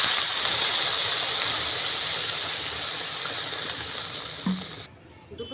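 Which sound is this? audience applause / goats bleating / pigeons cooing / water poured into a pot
water poured into a pot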